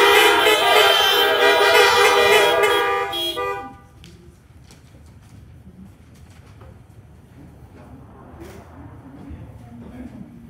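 Several car horns honk together in a loud sustained chorus during a Sunday worship gathering, then cut off abruptly, leaving quiet murmuring background noise.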